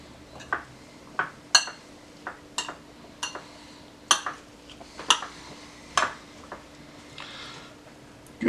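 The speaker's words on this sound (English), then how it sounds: "Give her a nice full stir." Spoon clinking against a bowl while stirring lime juice and salt for a chipotle chicken burrito, a dozen or so sharp, light ticks at an uneven rhythm over a faint steady hum.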